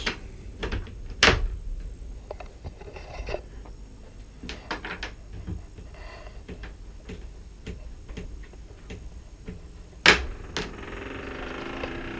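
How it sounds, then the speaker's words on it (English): Squeaky door latches on a DIY chicken coop, heard as a series of sharp clicks and clacks, with one loud snap near the start and another near the end, close by with a faint hum behind. "Squeaky door latches."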